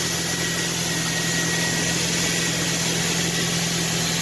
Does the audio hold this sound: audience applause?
no